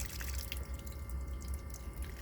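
Water leaking from a cracked filter on an RV's water hookup in freezing conditions, a faint steady trickle and drip close by with no talk.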